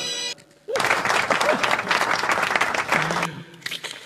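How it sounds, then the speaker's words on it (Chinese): An audience at a Facebook-livestreamed stand-up comedy show bursts into loud, dense clapping that starts abruptly, holds for about two and a half seconds, then thins out, with a voice briefly audible near the end. "掌声鼓励一下。"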